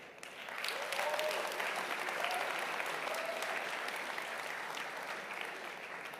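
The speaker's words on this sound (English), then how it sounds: "a big round of applause for the ColorOS team for making it possible." An audience at a ColorOS 7 smartphone software launch event breaks into sustained applause. The dense clapping swells quickly, holds steady for several seconds and then eases slightly.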